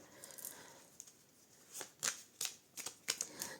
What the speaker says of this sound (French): je remets ça par là, je mets les cartes de tarot ici